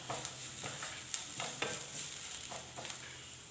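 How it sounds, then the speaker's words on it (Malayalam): Coriander powder and chicken masala stirred and sautéing in a pan for a Kerala mackerel and mango curry, a soft steady sizzle with a spoon scraping in several short strokes, close and fairly quiet. "1 ടീസ്പൂൺ മല്ലിപ്പൊടി, 1 ടീസ്പൂൺ ചിക്കൻ മസാല, ഇത്രയും ചേർത്ത് നന്നായിട്ടൊന്ന് വഴറ്റിയെടുക്കാം"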